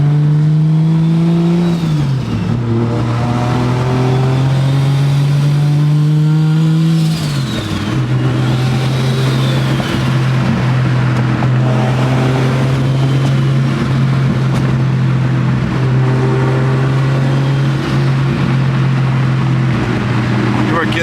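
A Toyota Supra engine drones loudly and steadily under light throttle, dipping and rising in pitch as the throttle changes, with a voice faintly underneath.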